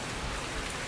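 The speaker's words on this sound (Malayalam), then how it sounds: "മഴ എന്ന് പറഞ്ഞാൽ ഇങ്ങനത്തെ ഒരു മഴ" Heavy rain pours down nearby, a dense, even hiss of drops hitting surfaces, steady throughout with no voices.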